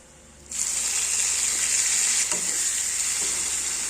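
Garlic fried golden brown, then tomatoes added to a hot pan for butter garlic chicken; a loud, steady sizzle bursts in after half a second and holds evenly, with a faint scrape partway through and no talking.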